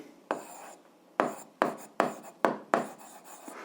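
Chalk or pen writes out an algebra solution for an 8th-grade exercise with exponents: scratchy stroke sounds arrive in short bursts with brief pauses between them, close and clear, with no speech.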